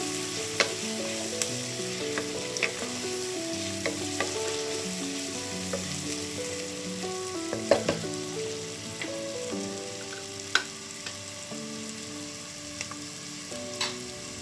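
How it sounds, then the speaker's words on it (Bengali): Vegetables and spices for a dhaba-style veg pulao fry in a pan with a constant sizzle, broken by occasional clicks and knocks of stirring, while soft music plays underneath. "এভাবে এটাকে হালকা ভাজা এবং সেদ্ধ হতে দেব অল্প একটু।"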